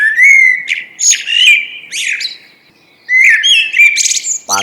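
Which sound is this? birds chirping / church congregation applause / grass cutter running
birds chirping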